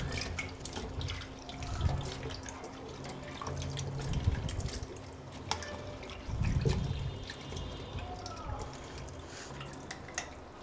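Tap water runs steadily into a kitchen sink while vegetables and fruits are rinsed under it, with splashing, trickling and occasional drips and clatters over a continuous flowing hiss, no talking.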